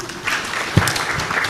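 A short burst of audience clapping at a polytechnic research conference, brief and fairly close, with a few louder claps standing out from the general patter.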